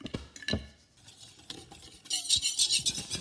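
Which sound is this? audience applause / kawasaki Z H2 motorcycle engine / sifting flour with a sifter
sifting flour with a sifter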